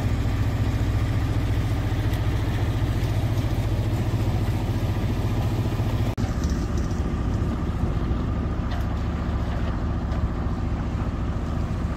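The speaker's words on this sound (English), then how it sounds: "As you can hear, the engine's still going." The inboard engine of an Albin Vega sailboat runs steadily while motoring on a flat calm sea off the south coast of Sweden, a loud continuous low throb with wind noise and no talking.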